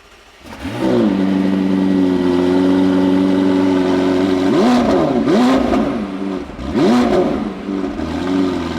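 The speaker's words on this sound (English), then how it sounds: "experience the cold start of this 4 litre twin turbo V8" A 4-litre twin-turbo V8 supercar engine cranks over on a cold start and fires into a loud, steady high idle, then is blipped twice with sharp revs that fall back, near and alone.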